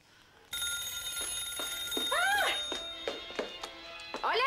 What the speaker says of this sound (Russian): Тете, соедини меня с домом Аманды.